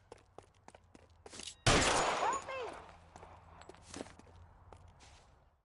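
A loud burst of gunfire cracks out after a stretch of quiet footsteps and scuffling, followed by a few sharper isolated shots and the fading rustle of movement.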